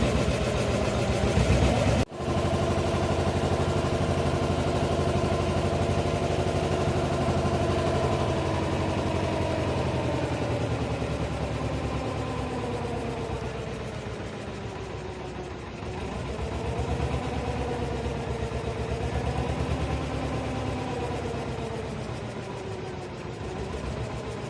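A ferry boat's engine drones steadily while crossing the river from Mayapur to Baral Ghat, a loud, continuous mechanical hum with a brief thump near the start and slight shifts in pitch and load as the boat moves.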